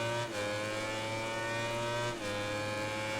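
A Suzuki MotoGP racing bike in MotoGP 19, its engine holding a steady high-pitched whine close up with a brief dip around each gear change, continuous and loud without talk.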